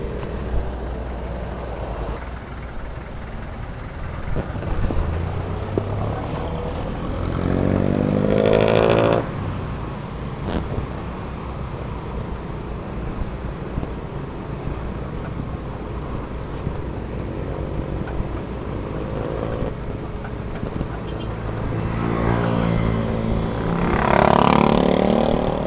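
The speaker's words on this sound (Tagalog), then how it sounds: "Malalaki yung sasakyan." Large vehicles rumble past on a road one after another, with broad swelling whooshes and deep engine drone rising and fading around a motorcycle at the roadside.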